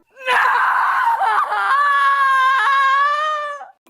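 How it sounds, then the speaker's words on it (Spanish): A professional scream artist lets out a long, loud, high-pitched film scream, shrill and sustained with wavering pitch for over three seconds, close and alone. "Así es como hacen el grito perfecto."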